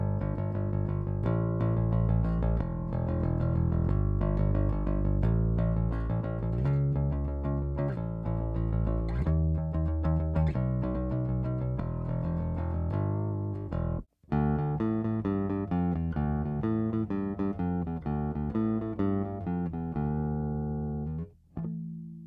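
A cheap passive bass guitar played through a TC Electronic BQ500 bass amp, first on the passive setting and then switched to active, with a continuous stretch of plucked notes and a brief gap near the switch.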